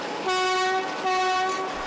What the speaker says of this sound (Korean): 바로 사탕수수를 실어 나르기 위해서 달리는 협괴열차.